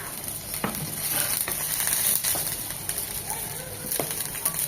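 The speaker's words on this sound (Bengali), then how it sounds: "এগুলো একদম ভাজা ভাজা হবে।" Finely chopped garlic and ginger, with onion, frying in a pan for a broccoli bhaji, giving a steady sizzle with scattered crackles and a few stirring scrapes, fairly close and moderately loud.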